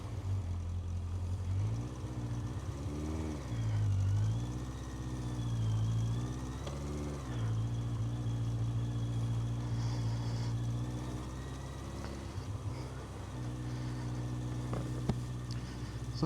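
A 1980s Yamaha XJ900 motorcycle engine runs steadily and close by, with its pitch rising and falling in a few gentle rev swells. It holds a continuous mid-range drone for the whole stretch, with no voices.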